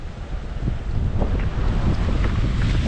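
Sea waves wash in softly at a jetty near Shrivardhan beach beneath heavy wind buffeting the microphone, a steady outdoor rush with no voices.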